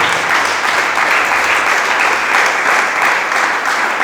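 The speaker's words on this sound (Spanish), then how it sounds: "Dele palmas a Cristo en la gloria" Applause from a church congregation during a sermon, a dense, steady wash of many hands clapping together, loud and sustained without pause.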